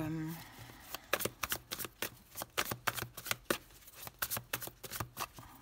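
Tarot cards, a Light Seers Tarot deck, shuffled in a rapid riffling burst of crisp slaps and flutters that runs steadily throughout, close and fairly loud with no speech.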